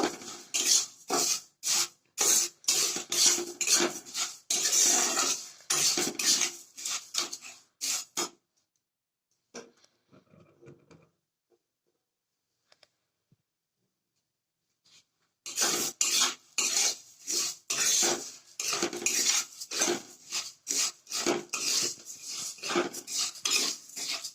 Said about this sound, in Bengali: প্রথমে শুকনো অবস্থায় একটু নেড়ে চেড়ে এটা ক্যারামেল তৈরি করব